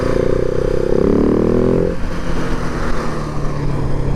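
A KTM 701 motorcycle engine roars loud and close while being ridden, its steady drone shifting in pitch partway through as the rider changes speed.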